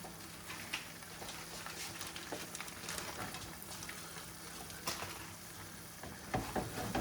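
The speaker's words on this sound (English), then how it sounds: "Mix them around. Make sure that the entire noodles are covered in your sauce there." Noodles from a chicken parmesan meal kit being stirred into sauce in a pan, a quiet continuous sizzle with light scraping and occasional soft clicks, with no talk.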